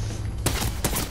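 Turret gunfire in the Fortnite video game breaks out in a couple of sharp, loud blasts about half a second apart, close by and abrupt.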